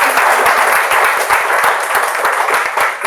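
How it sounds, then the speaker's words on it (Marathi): An audience at a prize distribution program for a story-reading competition bursts into loud, sustained applause for the judges, with dense overlapping claps continuing steadily throughout. "सो परीक्षकांसाठी एकदा जोरदार टाळ्या."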